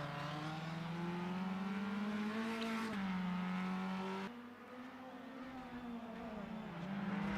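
Formula Inter single-seater race cars at Interlagos circuit, engines screaming at high revs with sustained loud whine that shifts pitch as gears change and cars pass, steady and close throughout.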